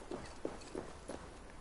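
Faint, steady clip-clop of horse hooves walking at an even pace in the video game Assassin's Creed Valhalla, about five soft hoofbeats, quiet and alone.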